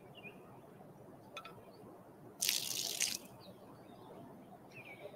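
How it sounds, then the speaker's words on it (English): Water poured out during an outdoor memorial observance, heard as a brief, loud splashing burst lasting under a second against a steady quiet background. "We would like to pour out water"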